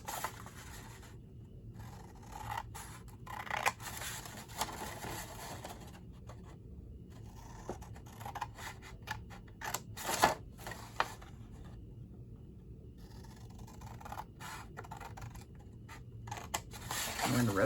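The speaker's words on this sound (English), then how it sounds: "scissors, grab my big ones. We are going to cut up each of these score lines" Large scissors cutting up paper along score lines for an Easter basket craft, making repeated crisp snips and rustling scrapes close by, with occasional talking mixed in.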